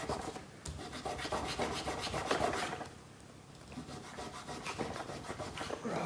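A finger rubbing steadily across the lines of a small woven waternettle bag, producing a continuous close, soft scratchy rustle with no talk.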